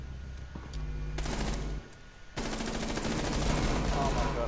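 Gunfire in Rainbow Six Siege rings out in rapid automatic bursts, a dense rattling stream of shots that briefly breaks off, then resumes louder and continuous at close range.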